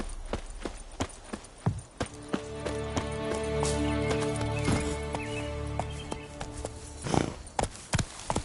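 Roach the horse's hooves clip-clop in The Witcher 3, a steady close trotting rhythm over a bed of sustained music, with a brief snort or whinny near the end.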